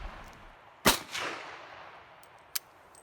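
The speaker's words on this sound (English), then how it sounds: "Here's my wife firing the M1 Carbine." An M1 Carbine rifle fired outdoors at a range, a single sharp loud crack followed by a brief rolling echo, then a fainter distant pop about a second and a half later.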